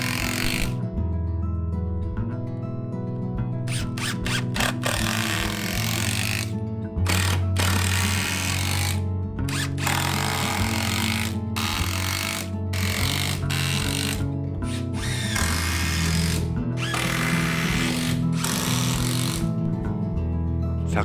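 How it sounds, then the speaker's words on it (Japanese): A power driver sinks long screws into the side boards of a straight staircase hand-cut from Japanese pine. It comes as a series of loud whirring bursts with short pauses between them, repeated about ten times. "まず親板を長めのビスでしっかりと留めていきます"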